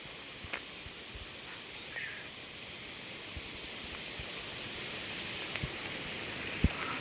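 Steady rain hisses down outdoors in the green Konkan countryside in a constant wash, with occasional louder drops and taps standing out.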